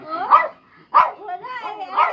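A dog gives a few short barks and yips at home, mixed with whimpering calls, close by and fairly loud, heard between people talking.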